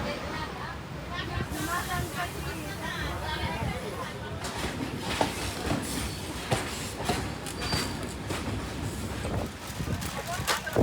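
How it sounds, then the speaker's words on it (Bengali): Bharat Gaurav tourist train pulling out of the station, with steady clickety-clack of wheels and rumbling carriage noise running throughout, people talking over it. "আমাদের ট্রেন ছেড়ে দেবে।"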